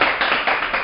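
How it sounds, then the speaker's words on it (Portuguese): Studio audience applause at a sports show, a dense burst of clapping from a crowd, loud and continuous with slight swells, heard alone without talk. "Dá uma salva de palmas aí, a nossa plateia."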